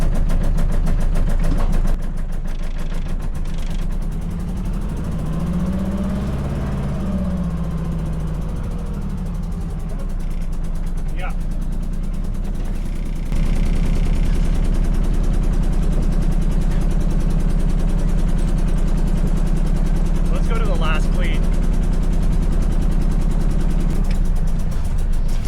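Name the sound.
boat engine idling in reverse while docking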